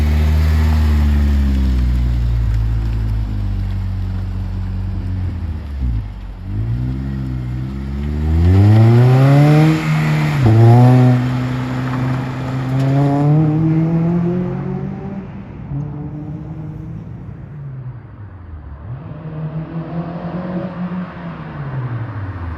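An 8th-generation Honda Civic swapped to a K24 engine pulls hard on a road test drive, its engine note climbing through rising, falling and re-rising rev sweeps across a loud, close in-cabin drone with no talking.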